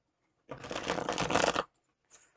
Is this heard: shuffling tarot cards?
yes